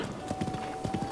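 A horse gallops in Zelda: Breath of the Wild, its hooves thudding in a quick, even clip-clop rhythm across a short stretch, close and fairly loud.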